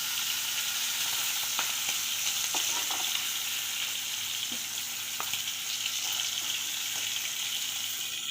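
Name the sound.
frying fish in a pan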